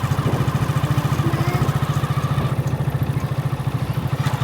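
A motorcycle rides along a village road in Nepal, its engine thumping in a steady, rapid pulse up close throughout, with faint rattling over the top and no talking.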